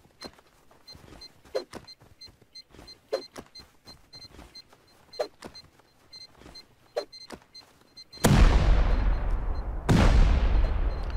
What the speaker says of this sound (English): Well, we'll just grenade the whole place.